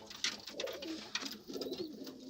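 Pigeons coo in a loft, soft rolling calls repeating closely in a quiet space, with faint rustling and light background noise between them.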